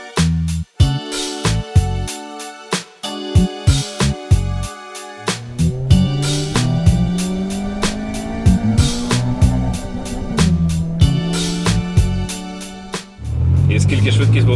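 A drag racing car rumbles, then loudly accelerates down the strip with a rising engine roar that climbs through the gears for several seconds, ending in a burst of broadband noise.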